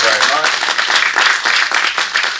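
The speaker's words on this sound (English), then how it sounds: "Small applause for Lindsay." Conference audience clapping steadily for the organizer, a dense, moderately loud patter of many hands that keeps going throughout without a break.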